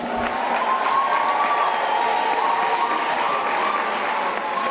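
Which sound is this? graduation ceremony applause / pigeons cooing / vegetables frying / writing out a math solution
graduation ceremony applause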